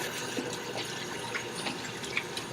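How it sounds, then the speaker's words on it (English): Hands being washed under a running tap: a steady hiss of flowing water with light splashing and patters, fairly faint and continuous, no voices. "we will wash our hands again, performing the same hand washing technique that we did prior to donning our PPE"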